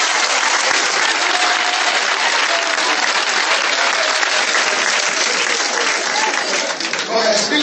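A congregation at a church deliverance gathering breaks into loud, sustained applause and cheering that fills the space without pause, with voices mixed into the clapping throughout.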